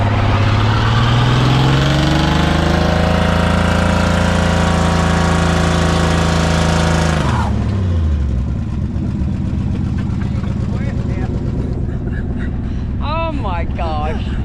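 A car engine left idling, loud and steady, with a low drone that sags in pitch partway through, under continuous speech and shouted talk.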